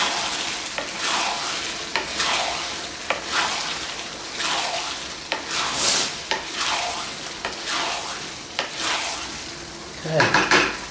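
A sauce with tofu cooks in a pan and is stirred steadily, the spoon scraping and clinking against the pan in a repeating rhythm over a constant sizzle, close and fairly loud, with a sharper clatter near the end.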